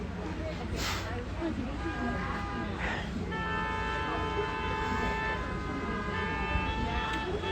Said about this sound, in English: We're starting to hear folks honking because access to the bridge is blocked off